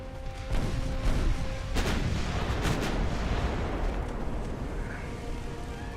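Warship secondary guns firing repeatedly in the naval strategy game Ultimate Admiral Dreadnoughts, with dense booming blasts rumbling continuously over a background music bed, no speech.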